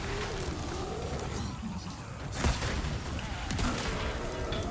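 Gunfire in Resident Evil 4 Remake, a busy, noisy game mix with a couple of sharper shot bursts standing out over continuous combat sound at moderate loudness.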